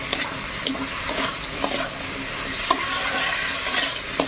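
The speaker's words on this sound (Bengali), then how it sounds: "এবার কাঁকড়া ভাজাগুলো দিয়ে দিলাম।" Fried crab pieces are added to a pan and stirred for a spicy crab curry, giving a continuous loud sizzle broken by rhythmic scraping and clinking strokes of the spatula.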